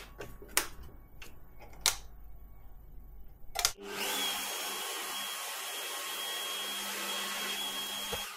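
Power drill boring holes in an aluminium bracket on a workbench: a steady, loud continuous whir after a few sharp knocks and clatters of handling, with no talk.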